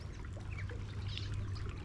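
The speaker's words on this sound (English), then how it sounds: "I want you to listen to the water" A stream in Kenya flows with a steady, continuous rush and trickle of water, up close, with faint bird calls scattered over it and no talking.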